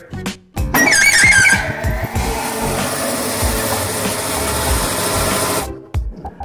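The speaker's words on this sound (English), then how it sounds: "The next saw you'll be using is the band saw, which is a long saw that goes through the machine in one direction, as we will demonstrate here." A band saw cutting a small piece of wood, a sustained loud mechanical whine and rumble with a brief squeal near the start, running steadily for several seconds before stopping.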